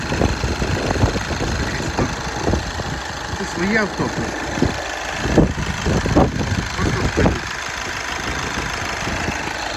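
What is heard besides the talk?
diesel van engine idling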